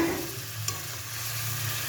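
Boiled potatoes being stirred and sautéed in a pan with capsicum paste, a low steady sizzle with a soft scrape of a spoon, close and continuous.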